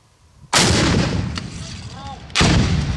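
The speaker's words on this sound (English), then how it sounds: "So here we come back to the range to shoot the RPGs yet again" A B40 RPG grenade launcher fires at an outdoor range. Two heavy, loud blasts boom nearby, and the first leaves a long rumbling tail before the second hits.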